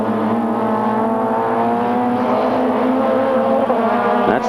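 Touring cars battle for the lead at Paul Ricard in the 1995 Supertourisme series, a loud, close, continuous engine roar with shifting revs as the cars ride the curbs, no speech.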